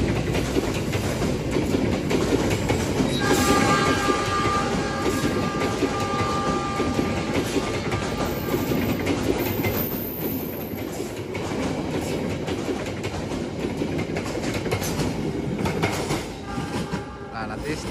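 The Malabar morning passenger train rolls through a station near Bandung, a steady loud rumble with clickety-clack over the rails and brief horn tones, with voices faintly in the background.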